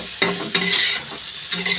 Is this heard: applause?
no